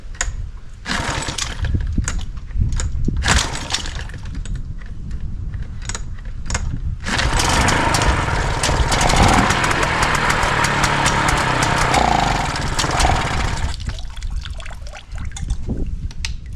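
A Hangkai outboard boat motor is yanked by its pull cord in a series of sharp, ragged bursts, then catches and runs steadily with a loud, buzzy drone for several seconds before easing off near the end.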